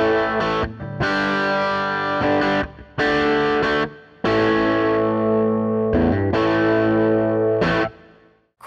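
An electric guitar runs through an Axe-Fx II preset on the 59 Bass Guy amp model, with loud, crunchy distorted chords and a chorus shimmer struck in several sustained bursts, each ringing out before short gaps.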